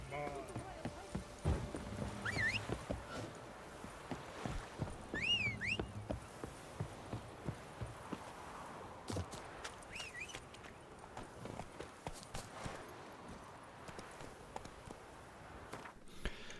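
Horse hooves clip-clop in The Witcher III, soft and intermittent beneath frequent talk and other game sounds, with a brief whinny-like call.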